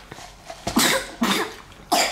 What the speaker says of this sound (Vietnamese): Ho là che miệng lại sao?